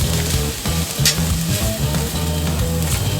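Onions for Nathan's beef hot dogs fry loudly in a pan, a dense, steady sizzle with crackling as they are broken up, close and continuous with no talking.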